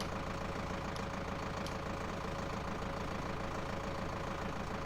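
A Zetor Proxima 120 tractor engine idles steadily in Farming Simulator, a loud, even low-pitched rumble with a constant knock-like pulse, close and unbroken for the whole stretch with no talk.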